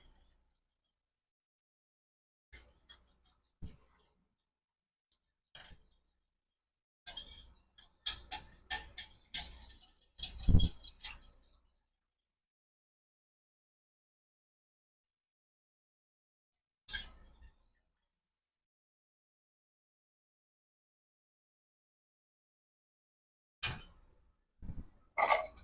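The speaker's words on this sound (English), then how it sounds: "We're essentially not going to stop whisking that until it's ready" A metal whisk beating butter into a sauce in a bowl, with faint clinking, ticking bursts that come in scattered spurts, one rapid flurry in the middle, and quiet gaps between.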